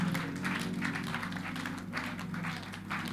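A church congregation claps hands during a praise session, a soft, steady patter of many hands in a reverberant room, fairly faint, with no talk over it.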